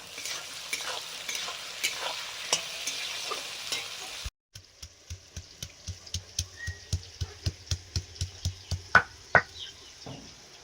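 Meat frying in a pan with whole cumin and chopped onion, a steady sizzle at first, then a run of rhythmic knocking and scraping strokes of a spatula against the pan, growing louder toward the end.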